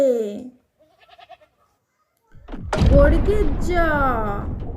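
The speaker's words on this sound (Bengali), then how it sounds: "ছতে ছাগল ছানা লাফিয়ে চলে" A young goat kid bleats: one short wavering call, a faint pause, then louder, longer quavering bleats that run on steadily.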